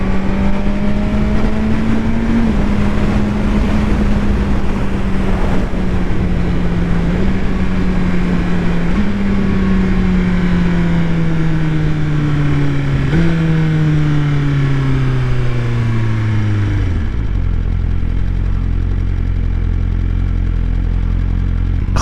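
A motorcycle engine runs loud and close, its pitch rising with twists of the throttle and then falling away in a drawn-out deceleration, with a long steady drone and no voices.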